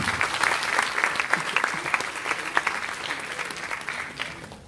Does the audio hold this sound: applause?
yes